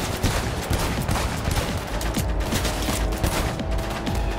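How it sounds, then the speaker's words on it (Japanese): Gunfire in Cyberpunk 2077 as a headshot lands, a loud, steady stream of rapid shots and impacts that runs through the whole stretch with no pause. "ヘッドショット決まった"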